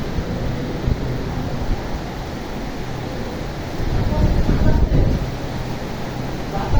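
A strong wind and heavy rainstorm beats around an office as date palms sway, a dense roaring wash of wind and rain that swells louder near the end.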